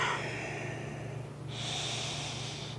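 Slow, deep breaths drawn through the nose during a morning yoga pose: a long, close exhale, a brief pause, then a strong, airy inhale, with no talking.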